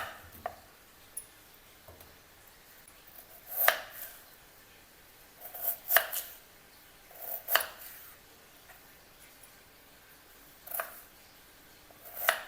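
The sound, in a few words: knife chopping potato into small pieces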